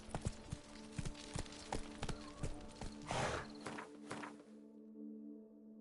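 Roach, Geralt's horse in The Witcher 3: Wild Hunt, gallops with a quick rhythmic clip-clop of hooves under a steady game soundtrack, the hoofbeats ceasing abruptly near the end.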